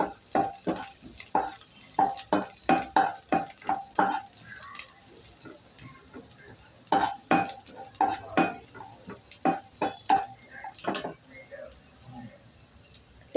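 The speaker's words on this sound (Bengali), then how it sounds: "রসুনটা দেওয়ার পর এটাকে একটু দু মিনিটের মতো একটু নাড়াচাড়া করে ভেজে নিচ্ছি" Garlic is stirred and fried in a pan, with a spatula scraping in quick rhythmic strokes in two runs separated by a short pause, over a faint, low sizzle.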